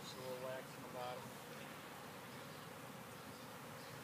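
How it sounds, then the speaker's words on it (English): Honeybees buzz close by a beekeeper's hands while a five-frame nuc is opened and installed, a steady near drone with a couple of brief higher whines early on. "There's a bee on my finger."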